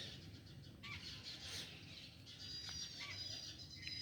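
Various small birds, including a tailorbird, chirp faintly around ridge gourd vines in a quiet garden, scattered high calls over a soft hiss.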